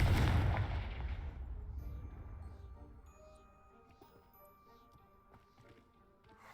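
A Confringo fire spell blasts a pile of debris in Hogwarts Legacy, landing as one loud, close explosion that rumbles and fades over a few seconds, followed by scattered small clatters of settling rubble.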